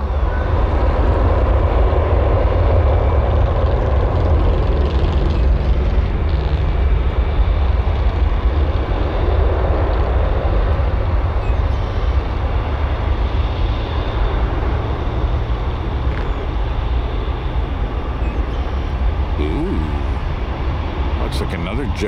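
JetBlue Airbus A220 jet taking off at Tampa airport, a loud sustained broad engine roar with deep rumble that continues throughout, heard at a distance along with tower radio chatter.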